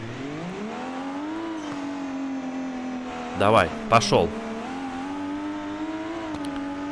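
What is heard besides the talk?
BMW X5M E70 engine and turbo in BeamNG.drive video game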